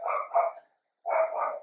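A dog barks twice, loud and close, each bark a short burst of several pulses separated by a brief silence, with no talking.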